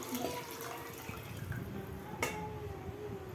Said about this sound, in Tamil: நான் 3 டம்ளர் வாட்டர் ஆட் பண்ணிக்கிறேன்.